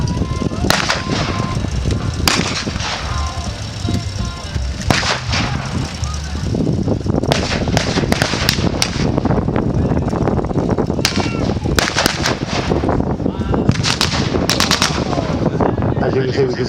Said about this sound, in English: this is where we bring in the MG42, which is one of the best machine guns in the Second World War